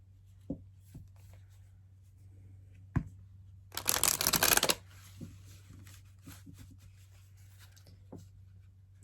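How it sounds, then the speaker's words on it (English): A deck of finished playing cards is riffle-shuffled in one dense burst of rapid fluttering clicks, preceded and followed by soft taps and handling of the cards. "I'll actually shuffle this a couple times to get"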